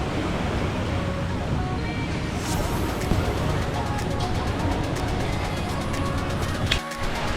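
Ocean waves wash steadily onto a beach near Ao Nang, Krabi, a continuous broadband surf roar mixed with wind buffeting the microphone, with faint voices in the background.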